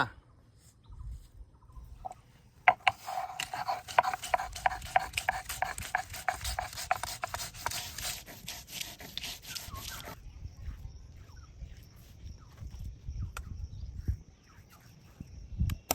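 Poppy seeds, cashews and mustard being ground into a spice paste, heard as a rhythmic rasping rub. The rubbing runs continuously through the middle stretch, with quieter scraping before and after.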